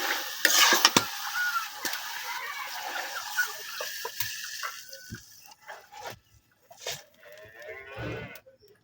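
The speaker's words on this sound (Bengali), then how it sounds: "ছোট ছোট মলা মাছ দিয়ে রান্না করতেছি আমরা" Small mola fish cooking in a pan with vegetables, soft sizzling and intermittent stirring scrapes close by, with faint background noises and occasional clatter.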